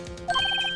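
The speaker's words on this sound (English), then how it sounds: "I heard a phone ring just now. One of those newfangled ringtones." A phone ringtone in the Phoenix Wright: Ace Attorney video game chirps a quick run of bright, repeated electronic tones after a brief lead-in, close and clear with no speech.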